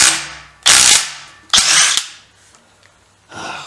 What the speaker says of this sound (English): we've even got a proper stronger impact socket to go on that